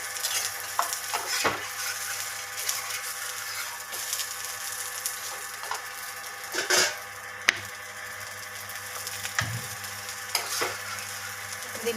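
Pesarattu, a green gram dosa topped with cumin, ginger, green chilli, curry leaves and coriander, sizzles steadily in a little oil on a pan, with occasional sharp clinks of a utensil against the pan.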